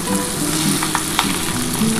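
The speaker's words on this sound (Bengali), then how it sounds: "একটু লাল লাল করে ভাজা হলে তারপরে কিন্তু আমি এটা নামাবো" Potato and pointed gourd slices frying in a pan of oil, a loud continuous sizzle close by with a couple of brief clinks of a stirring spoon, no voices.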